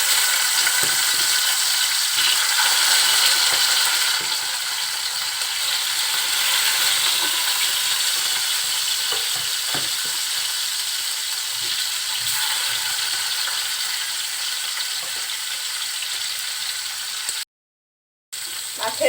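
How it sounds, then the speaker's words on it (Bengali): Rohu fish, rubbed with salt and turmeric, frying in hot oil in a pan, a dense steady crackling sizzle that runs loud and continuous for most of the stretch before a brief cut-out near the end. "তেলটা গরম হয়ে গিয়েছে, মাছগুলো দিয়ে দিচ্ছি"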